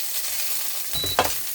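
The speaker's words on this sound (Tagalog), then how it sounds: "Siyempre po, prito muna po natin yung bacon. Ayan po, ipiniprito ko na po siya." Bacon frying in a pan, a steady sizzle with a louder burst of crackle and stirring toward the end, close and alone with no talk.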